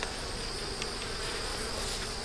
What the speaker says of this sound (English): Them are all little baby bees.